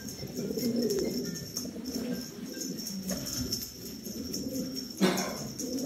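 Prize-bred pigeons at a loft in a hidden valley in Hatay coo in repeated low throaty rolls close by, with other birds calling and a sharp knock near the end.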